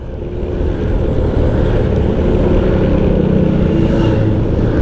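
A motorcycle engine runs steadily on a ride along a road, a continuous loud drone with wind noise and no talking.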